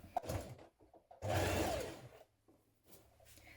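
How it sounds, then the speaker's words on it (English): A sewing machine understitches a few millimetres from a dress pocket seam, running in two short mechanical bursts, a brief one and then a longer, louder steady whir, with quiet pauses between. "we're going to understitch a few millimetres away from that seam that we've just created"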